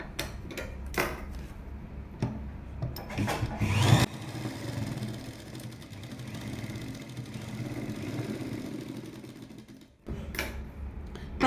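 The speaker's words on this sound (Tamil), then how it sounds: "இப்போ இதை கிராஸாக கொண்டு வந்து நம்ம தைச்சி விட்டோம்" A sewing machine stitches across a cross-cut jacket lining, its running whir continuing steadily for several seconds between short bursts of clicking and handling noise, close and moderately loud.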